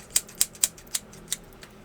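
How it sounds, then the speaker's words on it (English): Pinking shears snip through a non-cotton fabric in about six crisp, quick cuts, close and fairly quiet, spaced unevenly and fading toward the end. "I'm going to use pinking shears so it does not"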